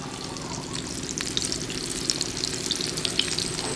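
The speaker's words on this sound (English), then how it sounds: "So what you want to get is a nice sear up there on both sides." Salted and peppered meat searing in a hot pan, a steady close sizzle and spatter with faint crackling pops throughout.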